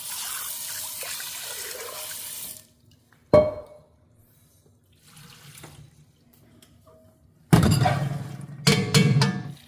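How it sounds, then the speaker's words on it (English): Soaking water pours out of a pot of beans, likely into a sink, in a steady rush that stops, then trickles and splashes, then pours strongly again near the end. "we're going to drain out the soaking water."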